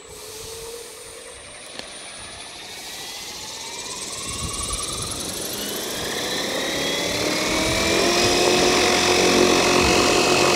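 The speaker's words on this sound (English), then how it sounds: "So I'm going to spool the heli up." A Spirit GT RC helicopter with a Hobbywing Platinum V4 controller spools up toward idle, its motor and rotor whine climbing steadily in pitch and loudness before leveling off, close by.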